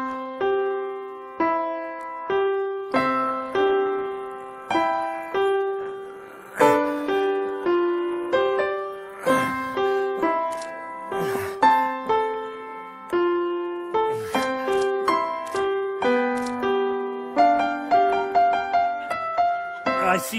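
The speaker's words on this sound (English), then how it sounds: "what a seven-year-old child sounds like when he plays the piano" A piano played the way a seven-year-old child plays, with halting, evenly accented single notes and simple chords, each struck note decaying before the next, continuing for about twenty seconds.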